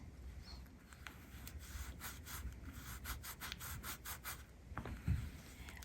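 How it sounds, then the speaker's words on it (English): Flock powder being rubbed by hand into an adhesive sheet, faint close rhythmic rubbing strokes in quick repeated bursts, with a soft bump near the end. "We're going to rub it into that adhesive sheet."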